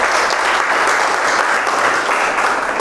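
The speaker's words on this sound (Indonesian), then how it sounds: "Tepuk tangan untuk kita semua." Steady, dense applause from students in a classroom, close and even throughout with no pauses.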